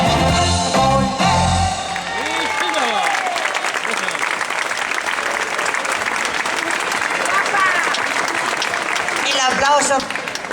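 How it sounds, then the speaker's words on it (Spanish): Applause and cheering rise from a crowd after a singer finishes a song, following the tail of her singing; loud, dense clapping carries through with scattered voices and whoops above it. "El aplauso es mío para todos vosotros"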